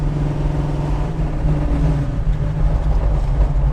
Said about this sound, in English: bend that exhaust a little bit. That's the noise you're hearing there.